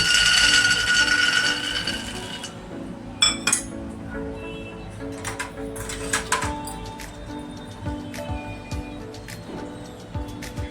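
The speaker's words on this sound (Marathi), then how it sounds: "आता आपण शेंगदाणे भाजून घेऊया" Peanuts dry-roast in a pan for a curry leaf chutney, giving close, intermittent rattling clinks and scraping as they are stirred and tossed, with quiet gaps between bursts.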